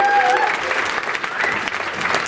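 Loud, close audience applause for performers leaving the stage at a tribute event, a thick burst of clapping with a brief whistle-like tone near the start and voices mixed in.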